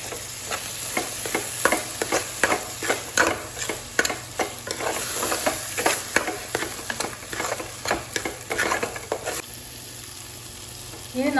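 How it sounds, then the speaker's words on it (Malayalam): Chopped capsicum sautés in hot oil in a pan, a constant soft sizzle broken by rhythmic scraping strokes of a spoon stirring, close and clear, before the stirring stops and only a quieter sizzle remains. "എന്നിട്ട് ഒരു മിനിറ്റ് വഴറ്റി കൊടുക്കാം."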